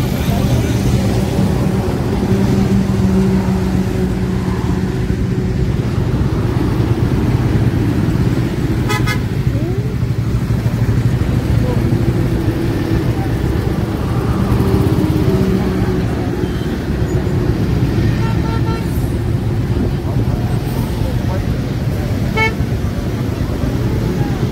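Motorcycle riding in road traffic between Kolkata and Bagda, steady engine and road roar throughout with occasional horn toots, and a voice talking over it.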